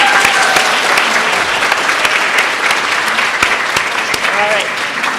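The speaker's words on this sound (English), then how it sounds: "Let's all give a round of applause for Carrie." Graduation ceremony audience applauding a speaker: dense, loud, sustained clapping from a large crowd that fills the whole stretch, with faint voices and a whoop mixed in.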